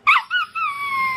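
A dog giving a short run of high whimpering yips that slide into a long drawn-out whine, close and clear with no talk, sounding almost like laughter.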